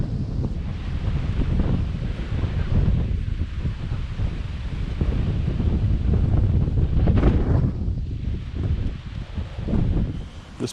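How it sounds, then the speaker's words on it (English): Steady wind buffets the microphone at a mountain ridge overlook on a cold day along a trail, a continuous loud rushing roar with gusts swelling and easing throughout, no voices. "a little bit of wind"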